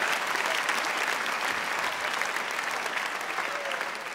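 Dense, steady audience applause fills a stand-up comedy show for several seconds, loud and continuous with no break.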